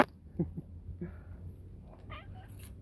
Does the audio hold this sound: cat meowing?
yes